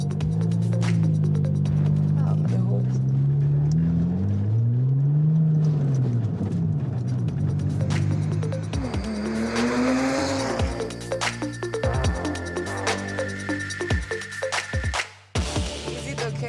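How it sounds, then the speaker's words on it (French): A Porsche driven on the road in Accra, Ghana, its engine note rising and falling through gear changes in a close, continuous drone, with a brief drop in sound near the end. "J'ai jamais conduit une Porsche de ma vie."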